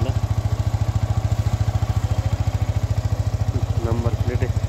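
A motorcycle engine thumps in a fast, even pulse, loud and close throughout a ride home on a muddy dirt road, with a voice briefly heard near the end.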